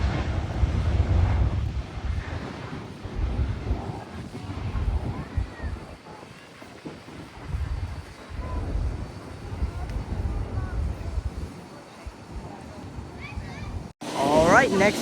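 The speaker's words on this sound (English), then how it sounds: "Southwest 737 Max 8 would have a more powerful takeoff than the A320." Southwest Boeing 737 Max 8 taking off, a loud, broad rumbling roar from the jet's engines with heavy wind buffeting on the microphone, lasting throughout, under a voice talking.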